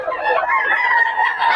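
A Boston Sweater gamefowl rooster crows at a Bocaue market: one loud, close, sustained crow that fills the moment, with no talking over it.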